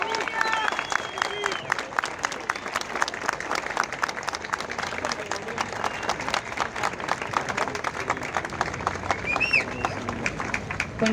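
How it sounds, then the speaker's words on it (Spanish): Sustained applause from a large audience at an open economics class greets Victoria Villarroel, dense steady clapping filling the room with crowd murmur underneath. "por favor, un gran aplauso para ella."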